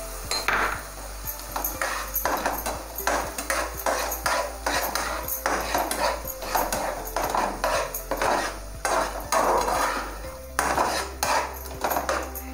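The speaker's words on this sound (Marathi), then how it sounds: "हे चांगलं ढवळत राहायचं बाजूला तूप सुटेपर्यंत" Mutton masala stirred in a pot with a metal spoon, repeated clinks and scrapes against the pot in an uneven rhythm, close and fairly loud, no voices.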